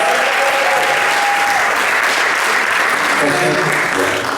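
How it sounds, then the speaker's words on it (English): Loud, steady applause from an audience at a poetry and spoken-word event in a recital hall, thick continuous clapping filling the room, with brief tonal cries or voices poking through. "Another round of applause for Titilope, Sanuga, and"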